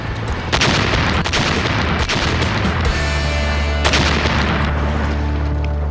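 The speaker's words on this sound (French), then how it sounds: "On a eu une explosion, c'est sûr." A TNT charge detonates against a tree trunk in an outdoor test, a loud close boom with sharp cracks followed by a sustained low rumble and debris noise, with another sharp burst a few seconds later.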